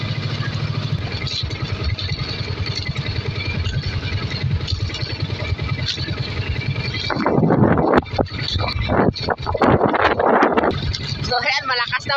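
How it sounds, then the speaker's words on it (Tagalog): Strong wind buffets a small fishing boat heading home, first as a steady engine drone with gusty rush, then turning into loud, ragged blasts of wind noise and clatter in the second half, with a voice talking over it. "Lakas na ng hangin."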